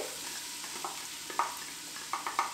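Uncooked bacon and half a yellow onion frying in an Instant Pot give a quiet, steady sizzle broken by a few short louder crackles and scrapes of stirring.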